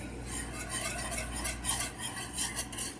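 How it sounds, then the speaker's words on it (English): A sauce is whisked steadily in a pan, giving a continuous scraping, swishing texture with faint metallic clinks, moderately close and alone with no talk. "you just keep whisking until you get it to be like a sauce"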